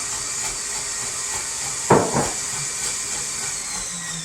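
An electric mixer runs with a steady high whine and hiss while mixing flour into sour cream all-butter pound cake batter, broken midway by a couple of brief louder knocks.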